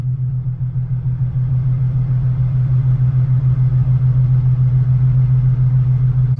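A Nissan 370Z engine restarts and idles steadily with a low, even rumble and a faint rhythmic pulse, continuous throughout with no voices.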